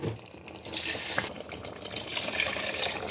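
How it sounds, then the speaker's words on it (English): A little water poured into a pot of smoky jollof rice, a steady splashing gush that swells after a brief start and carries on to the end, close and fairly loud. "And add a little bit of water."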